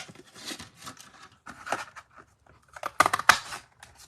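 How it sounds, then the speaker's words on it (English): A 2-inch circle punch cuts a plain black paper circle during card-making: soft paper rustling, then two sharp close crunching snaps of the punch near the end. "we're going to take just the 2-inch circle punch, and we're just going to cut a basic black circle"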